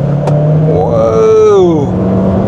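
A Proton S70 car accelerates in normal driving mode, its engine note rising steadily in pitch over a couple of seconds, then easing off as a gear changes, heard close from inside the cabin.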